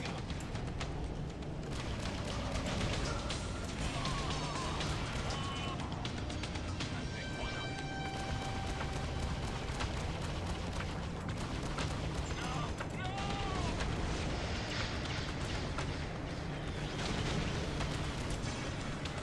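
Space combat in the game Freelancer with incoming missiles and explosions against battleships and cruisers: a dense, continuous roar of blasts and weapon fire, laser-like tones threading through, with speech mixed in over the din.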